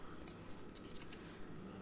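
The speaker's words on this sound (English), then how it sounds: "I'm going to use my larger scissors, and I'm just going to cut my sentiment" Large scissors cut through a paper card sentiment at an angle, a soft, continuous snipping rasp that is quiet and close with no talking.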